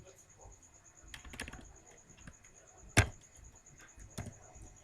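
Computer keyboard typing during spreadsheet work, a few quiet, scattered key taps with one sharper click near the middle, faint against a low background hiss.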